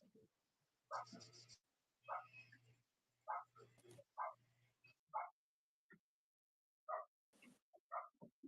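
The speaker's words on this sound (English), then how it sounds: "All I hear is some like basic barking." Dogs bark and yip upstairs during play, short sharp barks in irregular bursts separated by brief pauses, with faint scrabbling and thumps beneath, heard alone without talk.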